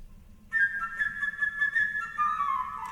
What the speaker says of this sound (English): The playful bird's played by the flute.